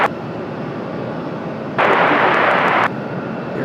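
An American Airlines jet rolls for takeoff on runway 23 right at Raleigh-Durham: a steady low roar, then a sudden loud hissing surge for about a second before it drops back.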